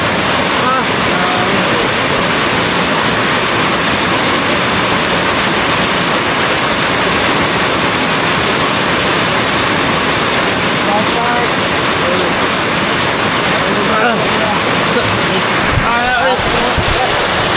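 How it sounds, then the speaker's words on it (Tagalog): Heavy pre-dawn rain pours down at a campsite, a loud, unbroken broadband roar with wind buffeting the microphone and a few brief voices near the end. "Lakas ng ulan mga kabugoy."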